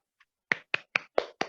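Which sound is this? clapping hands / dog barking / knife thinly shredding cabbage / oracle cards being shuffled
clapping hands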